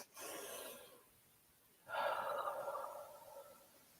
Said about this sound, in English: I just want to take a deep breath.